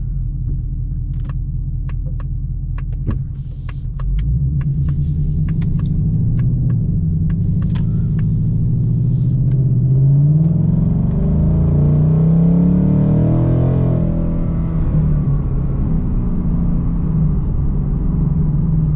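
A manual stick-shift performance car with Shelby parts rumbles steadily while driving, its engine a loud low drone that rises and swells with acceleration partway through, with small clicks near the start.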